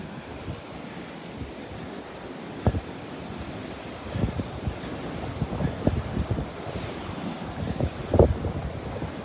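Strong gusty wind buffets the microphone on a Gulf beach at Delnor-Wiggins, with surf washing underneath and several louder gust bursts rumbling through.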